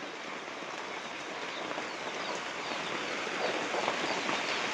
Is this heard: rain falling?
yes